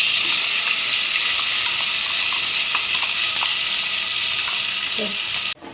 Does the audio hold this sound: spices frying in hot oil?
yes